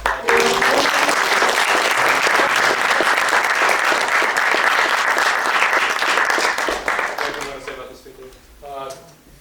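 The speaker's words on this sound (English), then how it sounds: "I think he deserves a quick round of applause" An audience at a university repertoire class concert applauds loudly and steadily for several seconds, then the clapping thins out and a voice begins speaking near the end.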